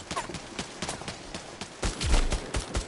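Gunfire in the VR co-op shooter Bravo Team, a run of sharp shots spread across the moment, with a denser, louder burst near the end.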